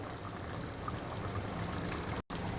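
Water poured from a glass into a pot of simmering chicken menudo with tomato sauce, a steady close splashing stream running for about two seconds before a brief cut, no talk.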